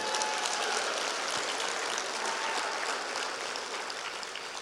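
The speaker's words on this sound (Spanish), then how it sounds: "dele un fuerte aplauso a él" Applause from a church congregation, a dense steady clatter of many hands that fills the hall for several seconds before easing slightly toward the end.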